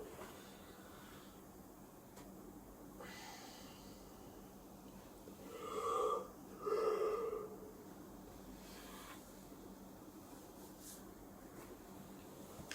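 A person yawns close by in a quiet room, one long drawn-out breathy yawn in two swells a few seconds apart, then quiet again.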